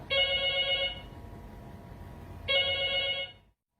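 Telephone bell ringing in two bursts, a bright electronic trill lasting about a second each, separated by a pause, moderately loud over faint room noise, with no talk.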